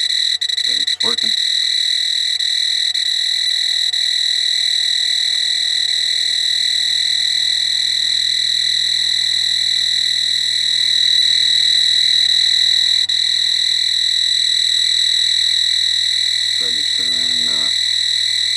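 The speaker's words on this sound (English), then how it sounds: "inverter's making a weird noise" A power inverter aboard a Columbia 45 sailboat gives off a constant, piercing electronic whine with layered high tones. A faint low hum runs beneath it. Brief bits of speech occur near the start and the end.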